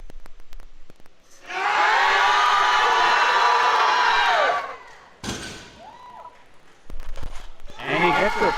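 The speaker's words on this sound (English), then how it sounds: "The Omni crowd go absolutely crazy." A powerlifting meet crowd from Omni Fitness erupts in loud sustained cheering and whooping for a successful third deadlift, roaring for about three seconds before fading into scattered shouts, with an announcer speaking afterward and more cheers returning.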